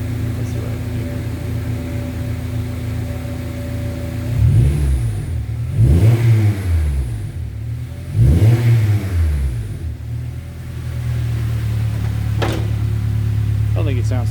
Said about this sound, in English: It sounds like a really good tuned exhaust.